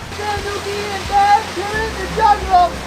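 Waterfall in a rainforest, its steady broadband rush of falling water running continuously near the microphone, with voices and brief calls or splashing sounds rising over it at moments.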